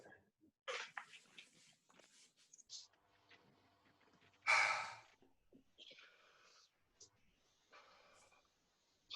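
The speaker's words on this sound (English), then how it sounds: "first one, just a passive exhale" A passive exhale performed during a stomach vacuum exercise: one soft, breathy rush of air close to the mic, surrounded by quieter breaths and faint rustling.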